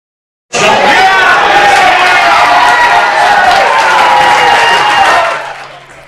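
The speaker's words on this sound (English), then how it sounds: "we take you to a packed house with Pitt State football fans cheering on the Gorillas season opener" A packed room of Pitt State football fans at a watch party at the Pit in Pittsburgh roars for the Gorillas' season opener, a sudden loud burst of cheering and shouting that holds for about five seconds and then fades out.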